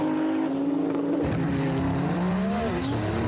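Two 1600-horsepower drag cars, an Audi R8 and a Nissan GT-R, launch hard off the line, engines roaring loudly and rising in pitch as they pull away, with a brief tire squeal.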